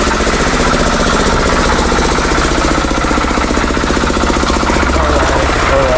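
Generator running loud and close, a dense steady rattling engine drone with constant mechanical knocking and no pauses, no voices over it.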